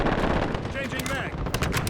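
Gunfire from a large 64-player ground war match in Call of Duty: Modern Warfare (2019) at a river quarry, heard as a loud, continuous wash of shots and battle noise with some sharper cracks near the end.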